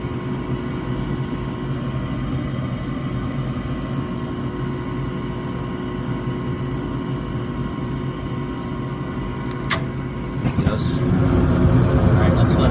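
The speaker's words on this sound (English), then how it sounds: "There goes our igniter. It's quite the delay in this gas valve." A residential gas furnace hums steadily nearby, then gives a brief sharp click and the burner catches with a rising whoosh as the roar swells; talking is heard over the running unit.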